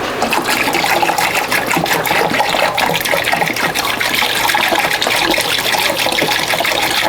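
Water poured from a gallon jug onto a potted philodendron, a steady splashing, gushing flow that runs continuously and fairly loud for the whole stretch, with no talk over it.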